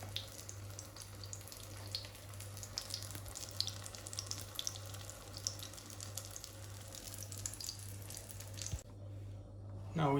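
Aubergine fries in a pan with a steady, even sizzle and crackle that carries on throughout, fairly quiet and close, and briefly cuts out near the end.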